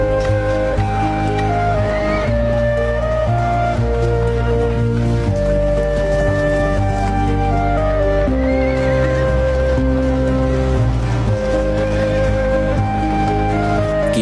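Horses of an ancient Egyptian war chariot neighing loudly, with hooves clip-clopping beneath, continuous and close throughout with no talking.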